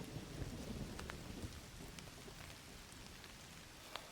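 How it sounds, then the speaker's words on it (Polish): Steady jungle rain in the video game Indiana Jones and the Great Circle, a dense even hiss with scattered drips and soft rumbles, continuous and fairly quiet throughout. "Jak nie kochać deszczu? On wszystko oczyszcza."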